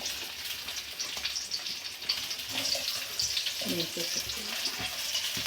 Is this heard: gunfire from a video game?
no